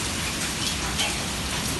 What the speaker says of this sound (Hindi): ये देखो ओले नजर आ रहे हैं, छोटे छोटे लाइट के पास गिर रही है।